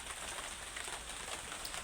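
Heavy rain falling outside near a home garden, a steady dense patter of drops on surfaces, soft and continuous with no voices.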